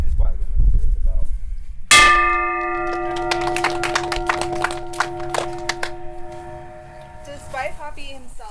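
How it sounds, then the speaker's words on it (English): A replica of the UCLA and USC victory bell rings at a memorial, one loud close strike followed by a burst of rapid clanging peals that gradually fade into a long ringing decay. "So we'll ring this bell"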